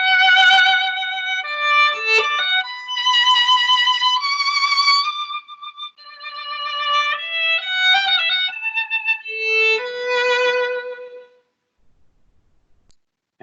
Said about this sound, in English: The bow goes across the strings, and it sounds like this.